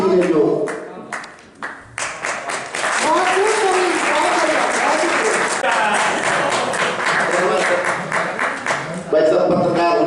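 An audience at an evening poetry gathering in Nagda breaks into sustained applause, dense steady clapping that fades briefly and then swells again near the end.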